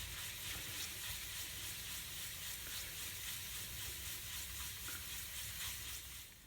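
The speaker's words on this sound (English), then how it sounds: "the rest I'm just going to get with this 600 grit sandpaper" Steady rubbing hiss of 600 grit sandpaper working a Jaguar wheel center cap, a continuous close abrasive scratch with slight rhythmic strokes and no pauses.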